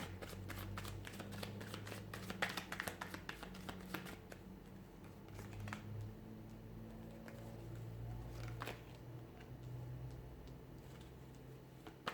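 Faint, steady shuffling of cards with rapid soft riffling clicks over a low background hum.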